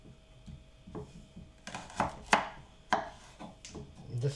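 A knife chops carrot finely on a cutting board, with a quick run of light taps that gives way to louder, sharper thuds in an irregular rhythm, close up and without talk.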